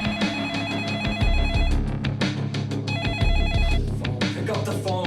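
A telephone bell rings in repeated bursts over a dense layer of music, loud and steady across the whole stretch.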